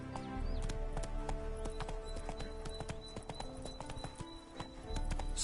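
Horse hooves galloping in The Witcher video game: a steady, rapid clip-clop rhythm runs throughout, close and clear, over sustained tonal game music.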